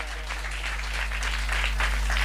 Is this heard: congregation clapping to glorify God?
yes